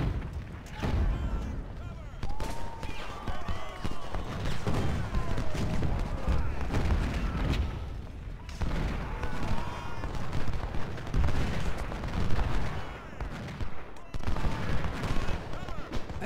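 Dense battlefield din from Ultimate General: Civil War at the Battle of Franklin: continuous volleys of musket fire and booming artillery rounds, loud and sustained throughout, with a voice talking over it.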